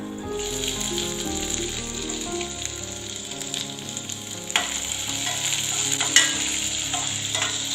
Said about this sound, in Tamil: அடுத்ததா இதுல நம்ம சின்ன வெங்காயம் சேர்க்க போறோம்